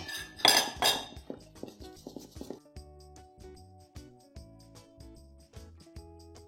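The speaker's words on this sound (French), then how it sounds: "Et on met notre farine et on mélange." Flour being mixed into spaetzle batter in a bowl, a loud burst of clinking at first, then steady rhythmic knocks of a utensil against the bowl in an even beat, close and without talk.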